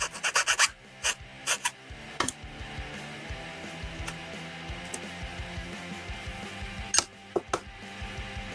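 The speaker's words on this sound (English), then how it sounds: "Polish the nub there." Small file strokes rasp and rub against a plastic nub on a Bandai 1/12 Android 18 model kit, close and quiet with a few sharper scraping bursts at the start and near the end.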